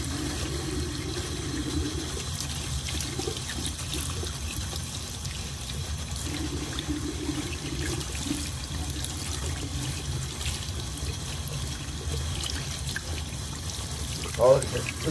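Steady running water from a tap pours into a sink, a constant broadband rush with a brief clink near the end.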